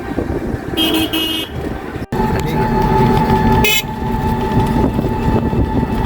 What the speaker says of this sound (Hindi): आप देख सकते हैं कचूबेड़िया बस स्टैंड, कितना शोर शराबा है मजे का